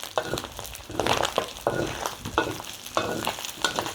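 Pork rinds frying in hot rendered pork fat over medium heat while being stirred, a steady close sizzle broken by regular scraping strokes of the spatula.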